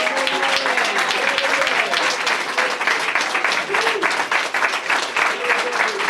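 An audience at a ribbon-cutting ceremony applauds a retired executive director, sustained dense clapping filling the room throughout while a speaker talks over it.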